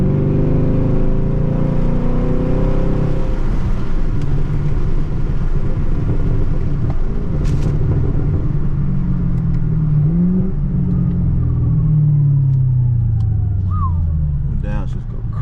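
A Chevrolet Camaro SS drives through city streets, its engine rumbling steadily and close throughout, with rising tones as it accelerates toward the end.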